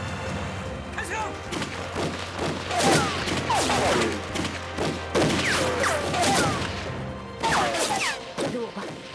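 Rifles and machine guns fire in a war-drama battle between Japanese troops and Eighth Route Army fighters: dense volleys of overlapping shots and rapid bursts crackle continuously over nine seconds, with voices calling out amid the shooting.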